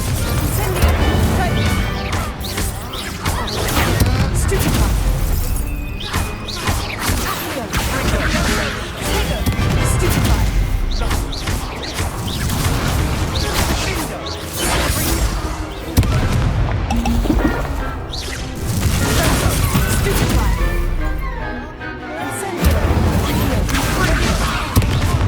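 Confringo blasting spells exploding during combat in Hogwarts Legacy: a long, relentless barrage of loud booms, crashes and crackling blasts, some sharp and close, with battle voices breaking in between.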